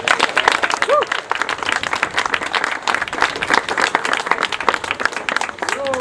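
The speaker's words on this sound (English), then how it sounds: "I'd like to round of applause for those folks." Applause from an audience at a political event in a barn: dense, steady clapping that fills the whole stretch, with voices from the crowd mixed in.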